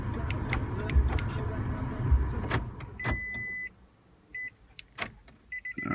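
A 2013–2014 Nissan Sentra with push-button start and an added remote starter shuts down: the running car's hum and a few clicks and ticks, then near silence broken by short electronic chirps and faint clicks as everything switches off.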